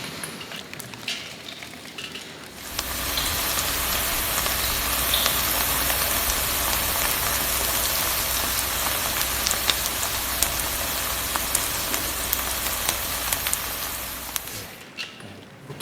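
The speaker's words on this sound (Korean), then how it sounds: "지금 제가 들려드린 소리는 어젯밤 제 아내가 부침개를 튀기는" Korean pancakes (buchimgae) fry in a pan with a dense, even crackling sizzle that starts abruptly and holds steady for about twelve seconds, close and loud, with no voices.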